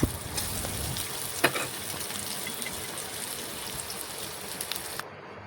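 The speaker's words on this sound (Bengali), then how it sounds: "পেঁয়াজটা একটু নাড়াচাড়া করে একটু হাফ ভেজে নেব" Onions sizzle and crackle in a hot pan, a steady hiss broken by scraping and clinks as they are stirred.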